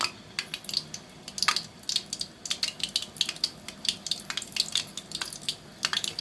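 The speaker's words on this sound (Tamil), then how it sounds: "சிம்மில் வச்சு தான் இது வந்து பொரிக்கணும்." Small mutton kola urundai balls deep-fry in oil over low heat, a close, busy crackle of bubbling and popping with frequent sharp spits, steady for several seconds without talk.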